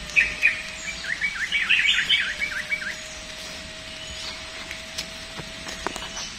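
A red bird in an aviary, sitting on its eggs, gives a quick run of bright chirps and tweets over a steady faint hum, then falls quiet with only occasional soft clicks.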